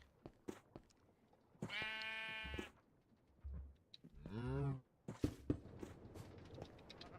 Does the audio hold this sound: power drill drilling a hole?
no